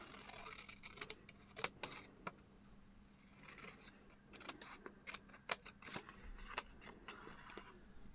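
Scissors snip through a paper skirt pattern in quiet, close, repeated crisp cuts with brief pauses between strokes, alone without talk.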